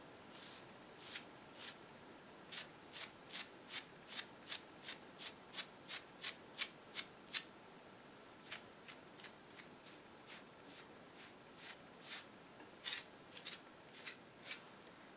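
Fingernails scratch over and over with quick, dry rasping strokes, close to the microphone and quiet, in bursts of regular rhythm with brief pauses between runs.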